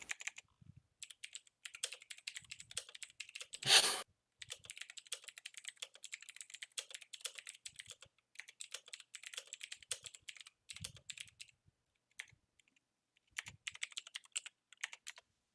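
Quick, quiet typing on a computer keyboard goes on almost nonstop, with a brief louder clatter near the start and a few short pauses. No one talks.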